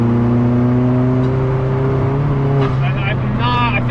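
A 1.8-litre turbo four in a VW MK2 Golf running in fourth gear, a loud close cabin drone holding a fairly steady pitch with a voice speaking over it.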